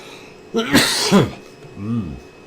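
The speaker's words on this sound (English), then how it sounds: "Bad coughing." A couple of harsh, raspy coughs close to the microphone, followed by a short vocal grunt in a quiet room.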